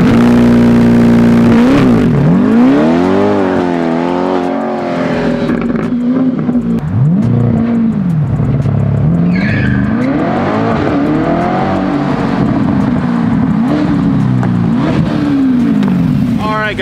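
Corvette C8 GT4.R race car making a launch-control start in a racing video game, loud engine revving that climbs and drops repeatedly through shifts with rising and falling pitch sweeps, continuous and close.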